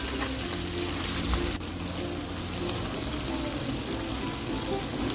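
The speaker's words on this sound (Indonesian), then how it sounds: "Akan saya masukkan bumbu-bumbunya. Ini akan saya goreng" Ground spices sizzling as they fry in hot oil in a pan on a stove, a continuous crackling hiss with occasional stirring scrapes, steady and close.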